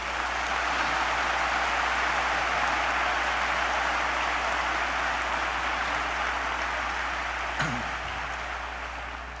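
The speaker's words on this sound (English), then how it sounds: "Please join me in giving this group a round of applause." Sustained audience applause at a university commencement ceremony, a dense, steady wash of many hands clapping that holds for several seconds and slowly tapers at the end, with no talking over it.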